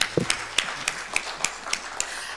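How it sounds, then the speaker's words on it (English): Audience at a convention session clapping for a speaker, a steady rhythmic series of distinct claps at an even pace, fairly close, with no talk over them. "Let us clap for him"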